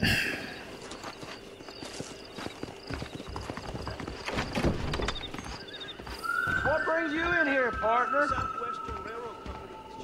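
Hooves clip-clop in uneven steps, then a horse in Red Dead Redemption whinnies loudly nearby with a few snorts, while a voice talks faintly.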